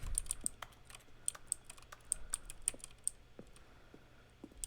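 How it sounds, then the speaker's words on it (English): Button presses in The Stanley Parable, each a keyboard stroke blended with a synthesized tone, come as a quick irregular run of crisp clicks and taps, close and clear with no voices. "Selection of the sounds used throughout the game when buttons are pressed. Each sound is a mix of a keyboard stroke and a synthesized tone."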